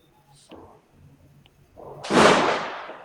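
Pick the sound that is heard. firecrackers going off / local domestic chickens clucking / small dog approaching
firecrackers going off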